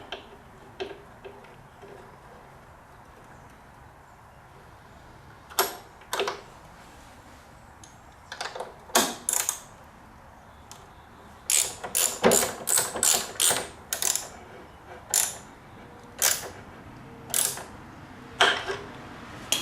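A ratchet clicks in irregular bursts of sharp, close ticks while a drain plug is tightened on the fork of a Honda VTX 1300 motorcycle, with quiet gaps between strokes.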